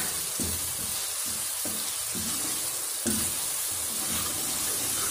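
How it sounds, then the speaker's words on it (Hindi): Masala for egg bhurji frying in a pan: a steady, close sizzle runs throughout, broken by soft scraping and thumping stirs at irregular intervals. "ये मसाला जो है वो धीरे धीरे पक रहा है जैसा कि आप देख रहे हैं।"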